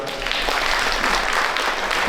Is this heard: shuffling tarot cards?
no